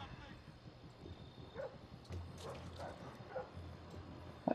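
A guard dog in Splinter Cell: Blacklist gives faint, scattered yips, barks and whimpers, distant and low under ambient game noise, with a sharper sound at the end.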